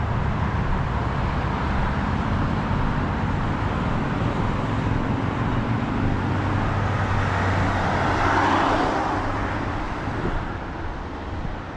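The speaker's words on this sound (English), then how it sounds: "I don't want to hear all the traffic today." Road traffic rumbles past on an afternoon walk in Maine, a steady loud wash of cars with a heavier vehicle swelling nearby before easing off.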